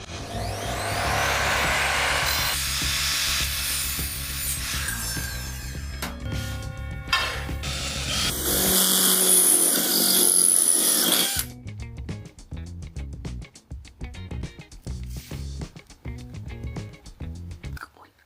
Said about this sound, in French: les couper avec ma scie à onglet